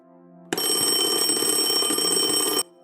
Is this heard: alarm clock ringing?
yes